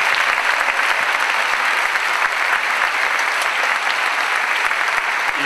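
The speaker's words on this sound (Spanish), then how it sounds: "un fuerte aplauso, fueron invitados especialmente." Audience applause for a children's choir at a school Christmas concert, a loud, dense, continuous clapping from a full hall with no talk over it.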